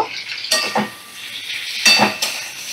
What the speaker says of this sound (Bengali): এবার আমি চেরা শুকনো লঙ্কা দিয়ে দেব।